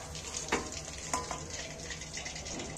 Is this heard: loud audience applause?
no